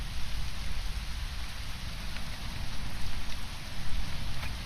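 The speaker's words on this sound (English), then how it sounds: "I think it sounds like a storm." Steady heavy rain from a storm in the video game Conan Exiles, pouring down in a dense, continuous wash of noise, with no voices present.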